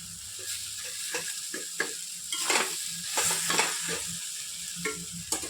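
Hilsa fish oil goes into taro leaves frying in a pan, giving a quiet sizzle broken by repeated scraping stirs and soft clatters, close by and with no talk.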